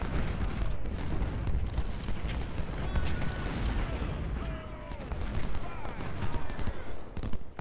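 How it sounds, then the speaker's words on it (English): Canister volleys from Napoleon cannons in Ultimate General: Civil War at the Battle of Shiloh, a dense, continuous roar of booming artillery and crackling gunfire rolling on loud throughout, with no clear gaps. "Hit him, Napoleons. Give him some canister fire."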